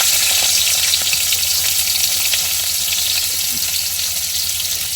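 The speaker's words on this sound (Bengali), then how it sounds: "তেল দিয়ে দিলাম তো পেঁয়াজ চলে যাচ্ছে" On a boat, onions fry in oil in a pan with a loud, continuous close-up sizzle that stays steady throughout.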